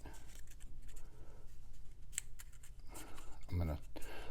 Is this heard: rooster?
no